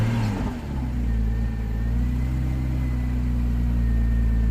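A Porsche Boxster S (987) engine catches and settles into a steady, fairly loud idle after a brief starting burst, with no talk over it.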